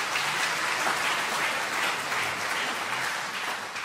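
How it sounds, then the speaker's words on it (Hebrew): Audience applause at a 30th-anniversary celebration of the Israel Symphony Orchestra Rishon LeZion, dense sustained clapping from a large crowd, evenly loud from start to finish, with no talk over it. "כן, מגיע להם מחיאות כפיים"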